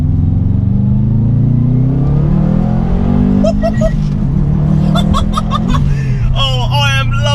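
Subaru Impreza RB320 engine pulling hard under turbo boost, a loud, rising engine drone heard from the cabin, with someone talking and laughing over it.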